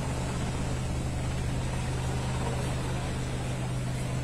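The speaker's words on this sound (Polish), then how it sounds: "jaki duży helikopter leci" A large helicopter flies low over the streets of Warsaw, heard as a steady, fairly faint, low droning hum that holds evenly throughout without voices.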